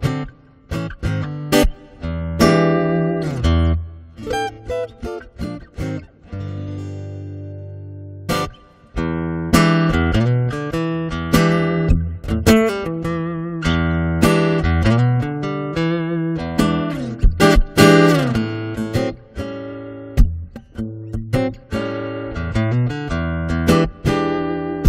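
Electric guitar played through a Yamaha THR5A amplifier on its tube setting, a rounded, warm jazz-blues tone; loud, close single-note runs and chords with pauses, no talking.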